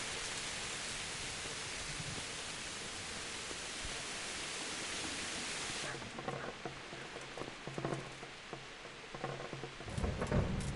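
Rain in the video game Kingdom Come, Hardcore Mode: a dense, even hiss of downpour fills the first six seconds, then thins to a softer patter with faint low thumps and rumbles toward the end.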